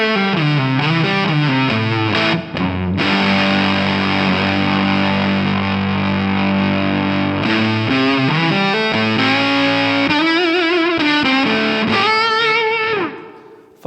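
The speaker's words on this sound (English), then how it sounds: "This is the fuzz all the way up." Electric guitar through a KingTone MiniFUZZ Si silicon fuzz pedal with the fuzz fully up, thick saturated chords then bending single-note lines, loud and alone, fading at the end.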